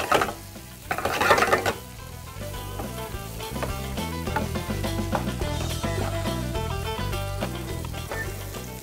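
Potatoes cooking with garlic in a pan are stirred, a steady sizzle with light scraping that sits largely beneath prominent background music.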